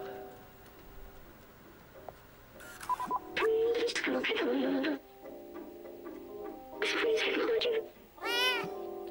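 A cat in the Stray video game meows repeatedly, several loud, drawn-out cries spread across the stretch, with a person talking between them over quiet game background.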